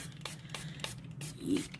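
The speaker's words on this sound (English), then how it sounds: "I'm going to spray a little bit" A spray bottle hisses onto a resin craft mold in several quick, regular puffs, close and soft against a low background hum.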